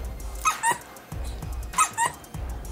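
A dog barks in two quick pairs of sharp, close barks, separated by short pauses, with faint background noise between them.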